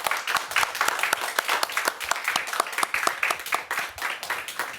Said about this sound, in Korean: 다시 한번 하나님께 영광의 박수.